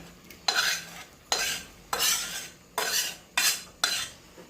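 Rice being stirred into masala in a pot for a village-style egg biryani, with five scraping, rustling strokes of a spoon against the pot, close and fairly loud, a faint sizzle between them.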